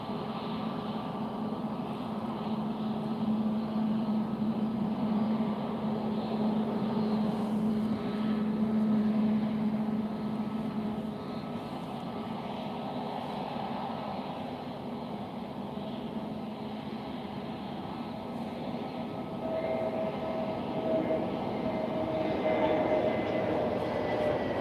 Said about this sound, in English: Next piece of action is the landing.